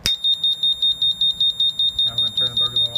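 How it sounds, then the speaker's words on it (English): An electronic burglar alarm from a student project sounds a rapid, evenly pulsed high-pitched beeping, loud and close, repeating about five times a second, while people talk faintly underneath toward the end. "here's the burglar alarm."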